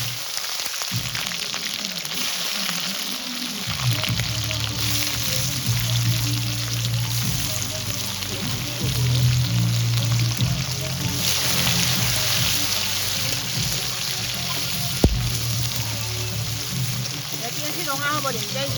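Onions fry in a pan for a homely chicken curry, a steady broad sizzle running throughout with a low hum beneath and a single sharp clink near the end.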